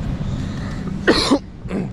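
A man coughs twice in quick succession near the microphone, followed by a softer third cough, against a quiet room background.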